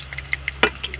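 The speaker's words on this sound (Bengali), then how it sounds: "টমেটোটা হালকা আমি নাড়াচাড়া করে ভেজে নেব।" Chopped tomato fries with spices in a pan while being stirred, giving a brief, faint sizzle dotted with a few soft scraping taps.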